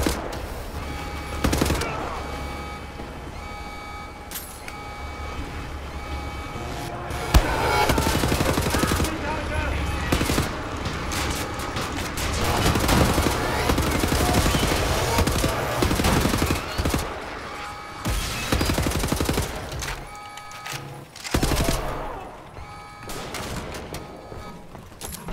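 Sustained gunfire from Wolfenstein: The New Order, with dense rapid machine-gun bursts and sharp shots crackling almost continuously for about twenty-five seconds, louder in spells, with a few brief lulls.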